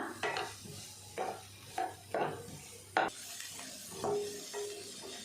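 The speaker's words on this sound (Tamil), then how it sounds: "இந்த எண்ணெயிலே சேர்த்து நல்லா வதக்கிடலாம்" Sweet potato pieces sautéed in oil with a generous dose of chilli spice, a spatula scraping the pan in repeated strokes over a soft, close sizzle, with no speech.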